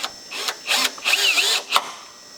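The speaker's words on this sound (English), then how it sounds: "Let me put my screws back in my B-pillar" A power driver runs several short whirring bursts while screws go back into the B-pillar panel of a More Door Impala, close and moderately loud, with pitch rising and falling between pulses and no talking.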